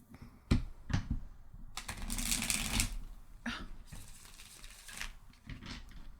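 A deck of playing cards is shuffled close up in a quiet room, with short riffling bursts and a longer flurry of card clatter between softer handling sounds.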